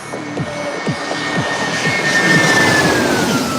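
An airliner arriving at San Diego airport, heard as a steady jet roar with a high whine that sweeps slowly downward as it passes, with no voices over it.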